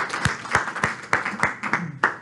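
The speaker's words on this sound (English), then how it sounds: "So with a round of applause, let's get them started." A seminar audience gives a brief, sparse round of applause: a handful of separate claps spread over about two seconds, fairly faint.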